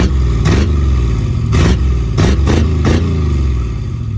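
A loud Chevy Nova engine revs hard in several sharp bursts over a steady rumbling idle, close and alone with no voices.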